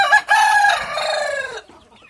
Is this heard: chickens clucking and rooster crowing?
yes